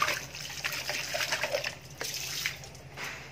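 A tap runs steadily while a plastic bucket is rinsed beneath it, with close splashing and trickling water that shifts as the bucket moves.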